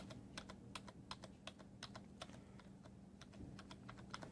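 Typing on a Cooler Master Storm Devastator membrane keyboard, a quick irregular run of soft, close keystrokes with muted clacks and no voices.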